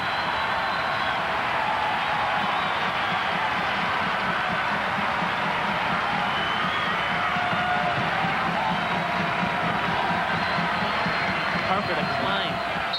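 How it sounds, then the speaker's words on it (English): A basketball arena crowd at a 1995 Bradley versus Illinois State game roars and cheers steadily throughout, a dense sustained wall of noise with no break. "and the crowd back on its feet"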